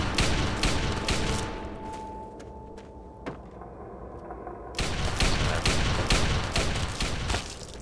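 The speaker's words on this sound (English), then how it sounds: "He's shooting at a corpse." Gunfire in the video game Fallout 3: rapid bursts of shots crackle through most of the stretch, pausing briefly with a single thud before heavy firing resumes loud and dense.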